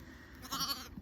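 A homebred ewe in a lambing-season field gives a short, faint bleat lasting about a second, heard alone against quiet outdoor background.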